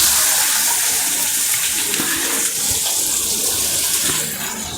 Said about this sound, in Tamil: காஞ்ச மிளகா நல்லா எண்ணெயில் போட்டுடலாம்.